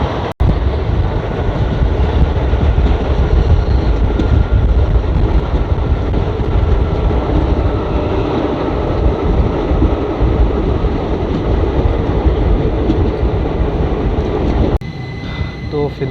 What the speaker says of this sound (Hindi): कुछ ही देर में हम गंगाखेड़ रेलवे स्टेशन को स्किप करने वाले हैं।